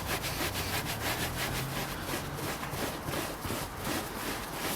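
Leather prep being wiped onto leather with a cloth, a steady, close, raspy rubbing in quick repeated strokes that continues without a break and with no talking.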